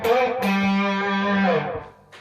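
Distorted electric guitar plays a phrase at a quicker tempo, a sharp attack then a thick, sustained note holding for about a second before dying away, followed by another brief pluck, loud and close with no speech.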